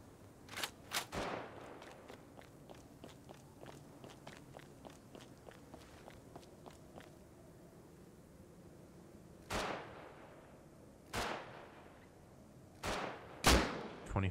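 A rapid string of evenly spaced gunshots rattles off in Rust during a close-quarters raid on an enemy base, followed after a pause by four heavier, louder single blasts spread across the remaining seconds.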